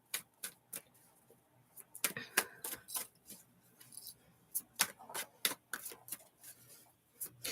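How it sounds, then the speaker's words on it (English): A deck of reading cards is shuffled by hand, giving a series of sharp, crisp riffling and tapping bursts in an irregular rhythm, close and fairly quiet, with no talk. "So I'm just going to do a quick shuffle."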